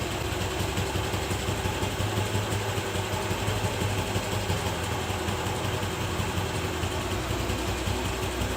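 A bike or scooter engine idles steadily at its lowest RPM during carburetor tuning, a continuous close mechanical hum with a low throbbing beat and no speech.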